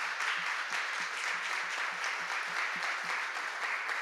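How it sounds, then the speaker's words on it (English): An audience claps for panelists at a community discussion, a steady, even wash of applause sustained throughout, with a faint regular low thump pulsing beneath it. "If you'll give them a round of applause."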